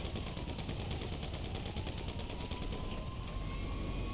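Sustained rapid gunfire aimed at a helicopter in GTA V, a continuous dense rattle of shots layered over the steady whirring thrum of rotor blades, loud and unbroken throughout.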